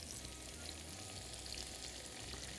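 Cut leeks fry in hot oil for a tomato-cheese bean and Brussels sprout casserole, giving a steady, dense sizzle that crackles close up with no pauses and no voices.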